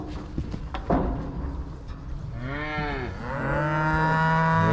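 Cattle moo loudly and close by during a horn fly pour-on treatment, one long low bellow swelling after a second of shuffling and background noise.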